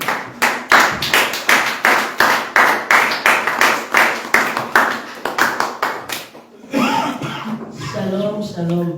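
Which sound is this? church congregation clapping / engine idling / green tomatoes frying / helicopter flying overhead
church congregation clapping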